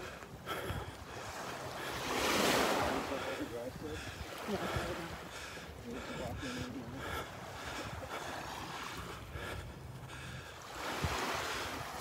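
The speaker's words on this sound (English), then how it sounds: "some little waves breaking on the sandbar" Small ocean waves break on a sandbar at Delnor-Wiggins beach, heard as soft washes of surf rising and falling amid wind, with a voice talking faintly over the shore noise.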